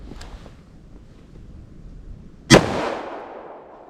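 A single loud .357 Magnum gunshot fired from a short barrel into a block of clear ballistics gel outdoors, a sharp crack with a rolling echo trailing off after quiet wind noise.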